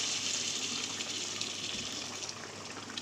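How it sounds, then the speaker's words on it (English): Boiling water poured into a chicken and mustard greens dish, a steady gushing, splashing pour that runs without a break for about three seconds at moderate loudness, with no talking. "So I'm using some water here, boiling water to the dish."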